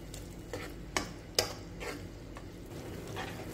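A spoon stirs a simmering tomato sauce for Iraqi red rice in a pot, with grated tomatoes in it. Soft, repeated scraping strokes run over a low sizzle, with two sharper clinks against the pot, close and quiet.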